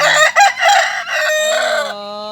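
A rooster crows once, loud and close, in a ringing cock-a-doodle-doo that ends on a long, falling note.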